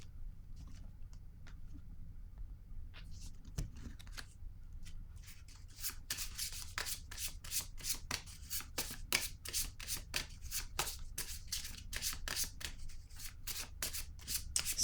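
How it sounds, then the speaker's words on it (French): Tarot cards are riffled and shuffled, with soft brushing at first and then a fast, steady run of crisp papery flutters close up, with no voices. "Je vais déposer une carte sur le cadeau."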